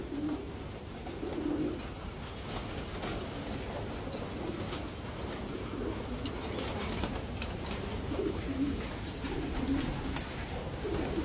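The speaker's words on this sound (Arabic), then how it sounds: "حمام درجة اولى يريد اكل" Soft, low cooing of homing pigeons eating repeats throughout over a steady background rumble and faint rustling, fairly distant and quiet.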